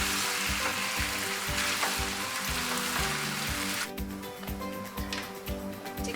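Chicken pieces for a curry frying in hot oil, a dense continuous sizzle with regular soft thumps of stirring, close and steady, easing slightly partway through.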